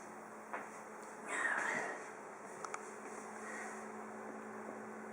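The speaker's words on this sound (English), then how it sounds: "I can hear some funny sounds coming out of the photocopier." Faint mechanical humming and whirring from a photocopier, with a soft rising buzz and a few small clicks, steady and quiet with no talking.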